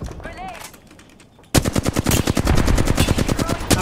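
Automatic gunfire in the Apex Legends game bursts in loud and rapid after a quieter stretch of distant shots and game sounds, then continues as a sustained close stream of shots.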